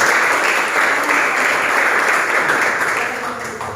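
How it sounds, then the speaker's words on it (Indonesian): Classroom of students applauding two classmates, a dense, steady wash of many hands clapping close by that fades slightly near the end. "tepuk tangan untuk mereka berdua"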